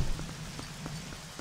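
Rain falls in the video game Zelda Twilight Princess HD, a soft steady patter with a few faint low thumps and tones underneath.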